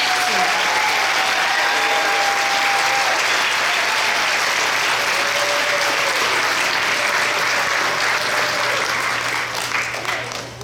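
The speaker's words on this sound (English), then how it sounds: "Please join us in giving our students and teachers a round of applause for their excellence." An audience at a school board awards ceremony applauds students and teachers with steady, full clapping that holds for about ten seconds before beginning to fade.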